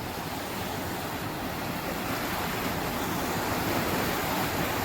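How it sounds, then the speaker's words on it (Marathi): Continuous broadband rush of river water tumbling over bare rock, even and fairly close, with no voices. "पूर्ण कातळातून पाणी मधून येतं बघा"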